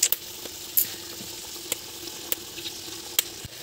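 Liver and shrimp fry in a hot pan with a steady close sizzle, broken by several sharp clicks of stirring; no one speaks.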